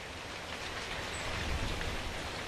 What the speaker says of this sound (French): la pluie se met à tomber